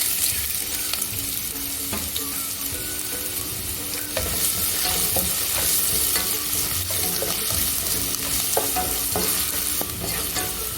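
Ginger pieces sizzle and crackle in already-hot oil while being stirred for an Indo-Chinese chilli gobi manchurian gravy, a steady close frying hiss with scraping stirs throughout and no talk.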